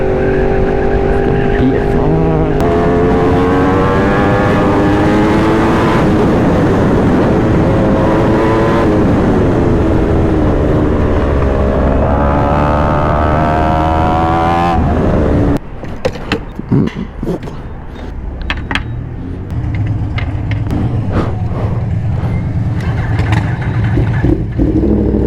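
A 2021 Yamaha R1 sport bike ridden hard on the road: a loud, continuous engine roar rising and falling through gears for about fifteen seconds, then a rougher, broken rumble with wind buffeting, while a rider talks over it.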